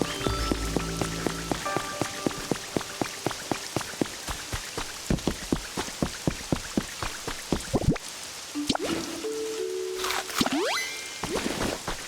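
Rain falling in the Pokemon Pokopia video game, a dense steady patter of drops across the whole stretch with game sound effects and short musical tones mixed in, no speech.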